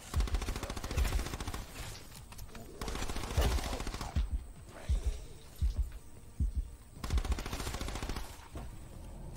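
Rapid bursts of automatic gunfire from Call of Duty Black Ops 4 zombies mode come in several rattling volleys separated by short pauses, with heavier thuds mixed in.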